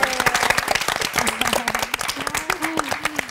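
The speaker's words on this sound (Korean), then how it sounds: "박수 한번 해야 되겠어요" Loud, close applause from a church congregation, a thick burst of many hands clapping at once, with a voice talking over it throughout.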